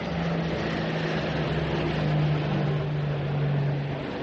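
A four-engine aircraft drones steadily overhead as a radio play sound effect, a constant low hum with faint beating tones under noise, no speech.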